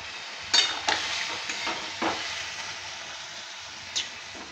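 A spoon stirs pepper tarkari in a pan, giving scraping strokes and soft clinks over a steady frying hiss, close and fairly loud.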